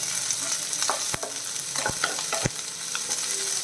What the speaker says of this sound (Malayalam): അതും കൂടെ ചേർത്ത് വഴക്കണം മീഡിയം ഫ്ലെയിമിൽ വെച്ചോളൂ